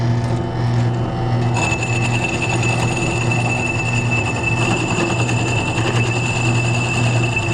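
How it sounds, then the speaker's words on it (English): A power drill bores a hole through the bottom of a Blackstone griddle grease trap, giving a loud, steady mechanical whine with a grinding edge that runs unbroken for about seven seconds, with no talking. "And we're going to drill the hole right in there"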